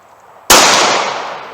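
A single sharp gunshot from a .380 pocket pistol, loud and close, cracks out after a short quiet lead-in and leaves a brief decaying ring.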